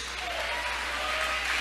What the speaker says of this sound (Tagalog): Palakpak para lamang sa Diyos.